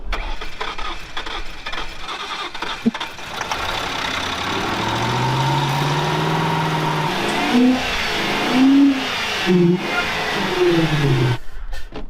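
A car engine, powered from a jump box, cranks, catches and keeps running, with rising revs and uneven surges that stay loud and close throughout.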